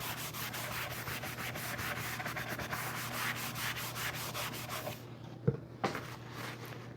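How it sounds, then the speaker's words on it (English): A cloth rubs wood stain into a small wooden table riser, making a continuous soft scrubbing with a steady back-and-forth rhythm that stops abruptly, followed by a couple of light knocks. "I'm going to pour some on my cloth. And I'm just going to"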